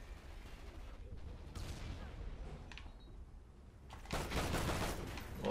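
An MR28 rifle fires in Call of Duty: Ghosts, Kill Confirmed mode, on Xbox One. A short burst comes first, then a longer, louder stretch of shots near the end over a low game rumble.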